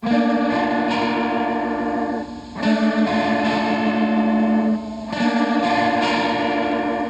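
Several layered electric guitars play a chordal rhythm part together, thick with distortion, chorus and echo effects, steady and full throughout.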